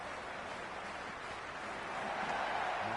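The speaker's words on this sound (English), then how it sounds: "Will you listen to that crowd? They are loving this." A stadium crowd roars in the cricket video game Cricket 26 during an India versus Pakistan T20 match in Dubai, a broad, continuous wash of cheering that swells slightly toward the end, steady and distant.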